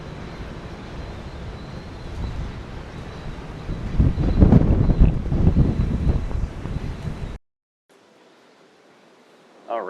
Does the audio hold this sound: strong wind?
yes